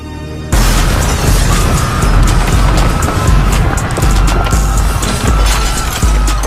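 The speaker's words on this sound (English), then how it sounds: "we're going to attack the medieval castle with 100 fireworks that will go off all at" A hundred fireworks go off all at once against a Lego medieval castle, a loud, dense, sustained barrage of booms, pops and crackles that begins abruptly and continues to the end without talk.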